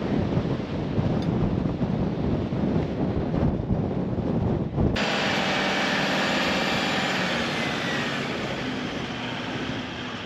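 Strong wind blows in the Western Sahara desert, a loud continuous rushing roar buffeting close by, changing character halfway through.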